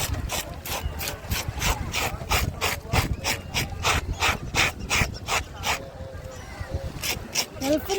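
Repeated rhythmic scraping and chopping as a woman cleans and cuts a kannu thallikkalava fish at a seaside fish market in Vizhinjam, steady strokes close by, with market chatter and voices around.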